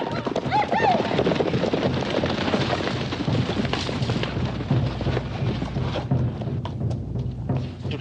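Horses gallop in a busy outdoor Western scene, hooves drumming steadily with a whinny near the start, under other clatter and noise.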